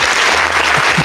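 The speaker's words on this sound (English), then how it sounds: "if we have all that applause after each dice roll" A burst of applause, many hands clapping densely and steadily for about a second, loud and close, with no voices over it.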